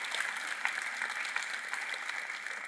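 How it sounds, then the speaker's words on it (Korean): A church congregation bursts into steady, dense applause at an Easter Sunday worship service, many hands clapping together in a continuous even roar with no voices rising above it. "큰 박수"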